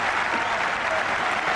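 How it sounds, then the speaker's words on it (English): A cricket crowd at the Oval in a 1990 England versus India Test breaks into sustained, dense applause, a steady even wash of clapping filling the whole moment with no clear voices on top. "listen to the crowd"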